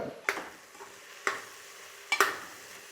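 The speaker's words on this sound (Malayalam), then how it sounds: "എന്നിട്ട് നല്ലോണം നമുക്ക് ഇളക്കി കൊടുക്കാം." Close, soft scraping of a spoon through ginger garlic paste and turmeric in a frying pan, with three distinct clinks against the pan over a faint sizzle, no voices.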